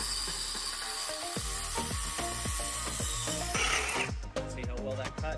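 Hacksaw blade cutting through a 1/8 inch aluminum plate, a steady rhythmic rasp of back-and-forth strokes, roughly two per second, close and fairly loud.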